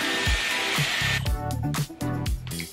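A Dyson Airwrap hair styler blows a steady, loud whoosh of air while curling hair, with some rustling and handling noise breaking through in the second half.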